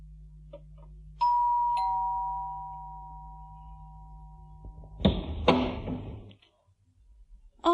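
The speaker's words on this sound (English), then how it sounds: "He went to Bill's flat and rang the doorbell." A doorbell chimes once with a long ringing tone that slowly fades, followed by a door clunking open.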